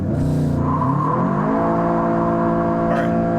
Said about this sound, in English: Let's go ahead and try a pull from first gear and see how it feels.